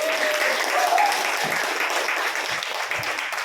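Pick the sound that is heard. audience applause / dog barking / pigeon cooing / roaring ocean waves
audience applause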